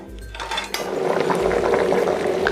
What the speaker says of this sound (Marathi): आता ही आपण आधी उकळी काढून घेऊया